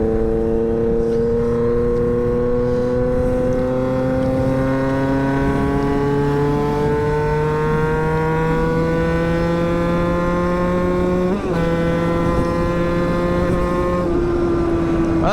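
A two-stroke Motobécane MA 50 moped engine buzzes loudly and continuously up close, its pitch climbing steadily as it accelerates, with a brief break as a gear change is made before it pulls again. No one speaks.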